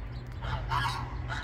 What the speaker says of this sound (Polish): Od rana pieją koguty, tutaj jakieś kaczki, łabędzie i tak dalej.